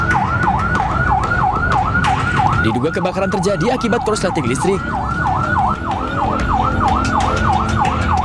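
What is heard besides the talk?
fire truck sirens at a bakery fire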